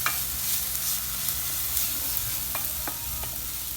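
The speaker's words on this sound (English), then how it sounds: "I'm taking it off the stove because I don't want to burn my garlic." Garlic sizzles in a pan as it comes off the stove, a steady close hiss with a few soft scraping stirs near the end and no talk.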